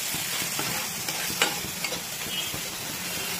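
Turmeric being stirred into a less-oil fish curry in a pan over a high flame: a steady, close sizzle and frying hiss with soft scraping stirs and one sharper clink partway through.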